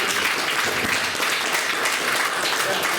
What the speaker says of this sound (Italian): Un applauso per Carina Valentano